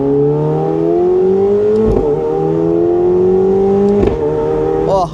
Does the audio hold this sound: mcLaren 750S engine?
yes